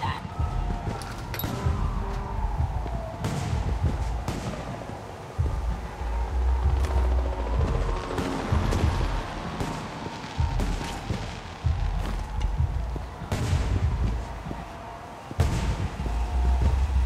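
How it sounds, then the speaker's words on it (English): Rapid crackling and popping bursts of fireworks in the video game Alpha Protocol, steady and dense throughout, with sharp bangs scattered over a continuous rumble. "The noise from those fireworks should cover the sound of gunfire."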